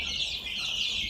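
Newly hatched chicks chirp in a steady, high, faint peeping chorus, close by and without pauses over a short moment.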